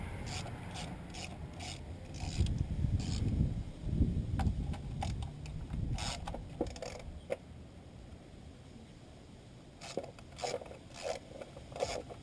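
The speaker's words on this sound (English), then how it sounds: "there's 4 bolts. Again, 8mm. Go ahead and undo these." Wrench ratcheting and rubbing as 8mm bolts come off the coil pack cover of a 1999 Nissan Maxima, with scattered clicks and scraping, a denser burst of handling noise in the middle, close and fairly quiet, no talk.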